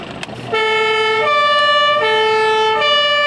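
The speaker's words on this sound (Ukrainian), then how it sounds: "Їдемо як належить з увімкненими маячками та пожежною сиреною." A fire engine's siren wails loudly and steadily on a volunteer rescue truck with its lights on during a simulated callout, the rising and falling tone running continuously after a brief rustle at the start.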